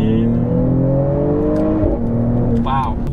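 A 2021 Mercedes GLE 53 AMG accelerating hard, its engine note climbing steadily in pitch as a close, loud, continuous roar inside the cabin, with a brief shift dip near the end.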